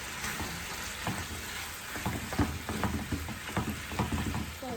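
Meat frying in a pan for a quick pasta recipe, a continuous close sizzle with scattered crackles and pops and occasional stirring scrapes, no talking.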